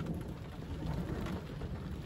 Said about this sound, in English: I can hear the thunder all over the place.